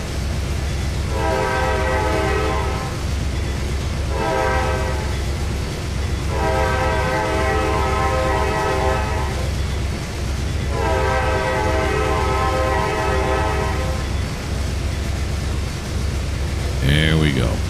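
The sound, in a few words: automatic train horn whistling at crossing, Trainz 2022 video game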